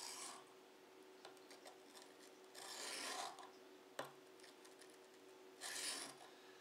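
A knife blade with a Scandi grind being sharpened, three long rasping strokes across the abrasive separated by quieter pauses and a single sharp tap, close and unaccompanied by talk.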